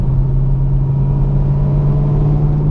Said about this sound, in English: There's no growling. There is just regular road noise.